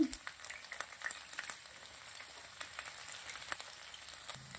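Garlic, red and green chillies, mustard seeds and cumin fry in hot oil for a yogurt-based leafy greens curry, giving a steady, close crackling sizzle scattered with sharp little pops and spits.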